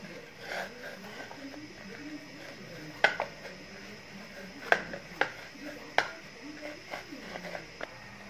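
Cardamom powder is worked into semolina dough in a bowl for gulab jamun, with sharp taps and clinks of a spoon against the bowl at irregular moments under a voice talking throughout.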